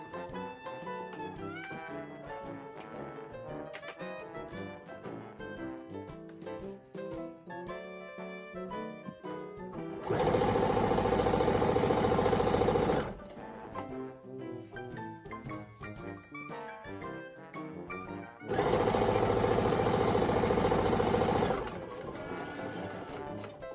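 A serger runs over the seams of fabric for a dress in two loud, fast whirring bursts of a few seconds each, separated by quieter stretches of background music.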